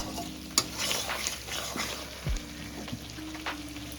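Chili powder sautés in a pan with a soft, low sizzle and occasional scrapes and knocks of a stirring spoon, fairly quiet and close.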